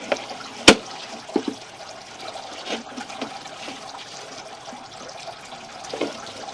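Water leaks through a small hole in a buried pipe into the ground, a faint trickle and dribble with a sharp knock early on and scattered soft clicks throughout.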